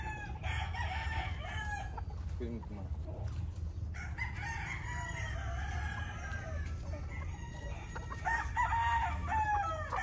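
Chickens, including selected pullets, cluck and a rooster crows repeatedly in a busy farm pen, layered calls over steady low background noise throughout.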